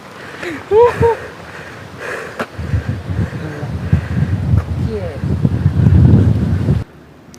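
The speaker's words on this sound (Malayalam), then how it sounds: "ഇത് തള്ളൊന്നല്ല നല്ല കാറ്റുള്ള സ്ഥലം തന്നെയാണെന്നുള്ളത്" Strong wind buffeting the microphone on a hilltop, loud rumbling gusts that build and roar through most of the stretch, with brief voices and a few bird calls early on.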